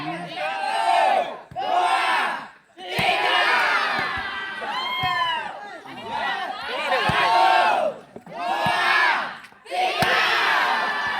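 Home team supporters in the stands cheer and chant in loud, surging bursts at a volleyball match, a big crowd of massed voices rising and falling with short pauses between the waves.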